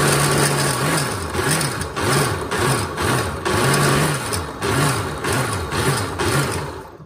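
A food processor pulses grated ingredients for a Jamaican rum cake, its motor whirring in a quick run of short bursts that rise and fall in pitch, loud and close.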